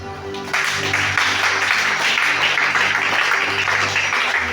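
A church congregation at a Sunday service bursts into loud sustained applause after a brief pause, a dense wash of clapping that fills the room and holds steady throughout.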